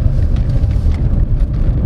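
A 2024 Dongfeng Nanobox small electric car pulling away from a standstill, heard as a steady, close low road-and-tyre rumble with no engine note and no voices.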